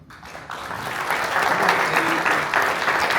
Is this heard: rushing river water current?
no